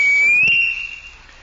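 A small tin whistle gives one high, shrill toot, loud and close, holding steady for about half a second before tailing off.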